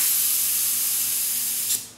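CO2 gas hissing out of an airsoft grenade, a loud, steady broadband spray lasting about two seconds that swells slightly near the end before fading out quickly.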